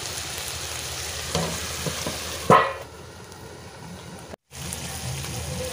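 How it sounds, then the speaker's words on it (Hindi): Chicken fries in a pan for a desi murga recipe, giving a steady close sizzle and crackle with a louder stirring clatter midway and a brief cut before the frying resumes. "इसको इस प्रकार से 5 मिनट तक भूनना है।"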